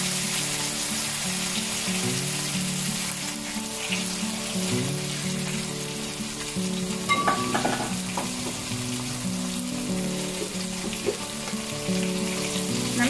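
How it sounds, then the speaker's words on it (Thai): Sausages stir-fried with soy sauce, oyster sauce and sugar give a continuous loud sizzle, close by, with rhythmic scraping and tapping of the spatula against the pan throughout. "ผัดให้เข้ากันเลยค่ะ"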